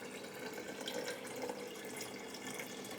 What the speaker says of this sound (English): And then just cover it with white wine vinegar.